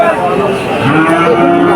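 A calf at a cattle market lets out one long, loud, close moo that lasts nearly the whole moment, with the crowd murmuring faintly behind it.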